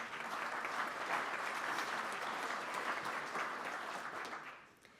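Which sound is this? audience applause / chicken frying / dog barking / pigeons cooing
audience applause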